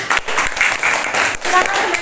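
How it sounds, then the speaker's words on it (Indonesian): Applause from a primary school class in an Indonesian classroom, a brief burst of clapping from a group of students, loud and close, with a voice speaking over it. "Bagus, tepuk tangan."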